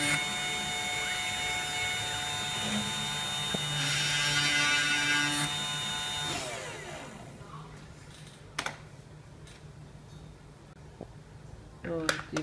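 A mini CNC 1610 machine drills holes in a circuit board resting on an aluminium base, with a steady high motor whine that cuts off after about six seconds and is followed by scattered clicks and taps.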